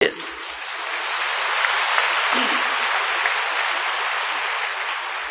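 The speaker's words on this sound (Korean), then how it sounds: "이 박수 때문에 말을 잘 못하겠다" A church congregation claps together in a continuous wash of applause that swells after a brief pause and holds steady to the end.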